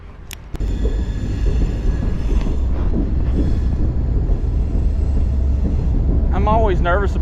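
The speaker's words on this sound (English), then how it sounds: "I'm always nervous about fishing under this bridge because of this train." A train rolls over a bridge above a river fishing spot, a loud sustained rumble of wheels and cars with metallic squeals near the end, and people talk now and then.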